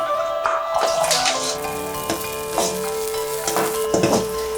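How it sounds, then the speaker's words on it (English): Chopped onion sizzles and crackles in hot oil in a pan while preparing Kenyan sukuma, with a steady fry broken by several louder bursts and scrapes as it is stirred. "We'll fry the onion until it gets brown."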